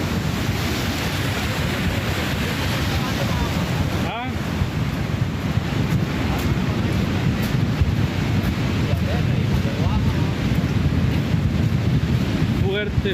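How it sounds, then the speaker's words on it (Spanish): A flooded Río Cañas in Líbano, Tilarán, rushes in a loud, continuous roar of churning water with wind buffeting the microphone, unbroken throughout. "río Cañas, fuerte crecida, la más brava de este invierno en el distrito de Líbano, de Tilarán"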